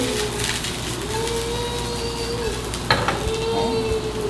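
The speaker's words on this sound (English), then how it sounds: "I'm stirring that up, getting that peanut oil kind of around everything." Shiitake mushrooms stir-fry in peanut oil, a steady sizzle running throughout with a low hum beneath, a few soft scrapes of stirring and one sharp utensil knock near the end.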